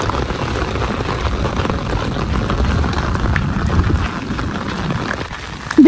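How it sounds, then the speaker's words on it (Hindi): Heavy rain pours down on a village, a steady dense wash of noise that holds evenly throughout, with a brief louder bump right at the end. "आज फिर उसी तरह की बारिश है।"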